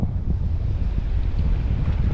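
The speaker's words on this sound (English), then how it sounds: "It is quite windy here" Strong wind buffeting the microphone on a fishing boat out on the water, a continuous low roaring gust noise with a steady, close, rumbling texture and no voices.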